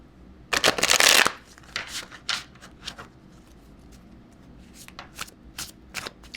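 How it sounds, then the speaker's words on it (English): Enneagram-themed dragon oracle cards being shuffled by hand, a loud dense riffle burst near the start followed by several softer, scattered shuffles and card slides, with no talking. "Okay, so now let's pull our dragon cards."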